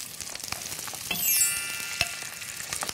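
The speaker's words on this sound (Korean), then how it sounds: "소스가 또 이제 지글지글하고 있거든요" Meat fries skin-side in oil in a pan while a ginger sauce simmers beside it, giving a soft, steady sizzle with scattered crackles and one brighter hiss midway, close and unaccompanied by voices.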